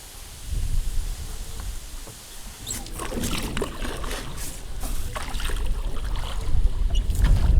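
A small fishing boat moves on the Southern Bug river with a low engine rumble, splashing and wind buffeting the microphone, steady and close throughout.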